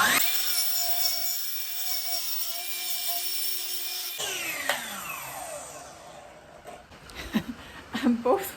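A saw cuts wood for a radiator cover, with a steady power-tool whine first, then a stretch of rougher rasping strokes, and a voice talking briefly over it.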